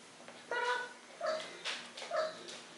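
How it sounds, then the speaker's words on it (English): A Bengal cat gives a few short raspy bark-like meows, three or four separate calls close by with pauses between them in a quiet room. "The Bengal cat doesn't meow quite like other cats. It's actually more of a bark,"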